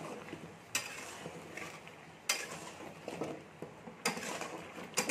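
Lobongo lotika sweets are stirred into sticky sugar syrup in a pan, making soft scraping and wet sloshing. Sharp clinks of a utensil against the pan recur every second or so at close range.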